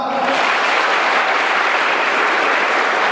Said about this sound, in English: I wanted to see you are clapping. Clap.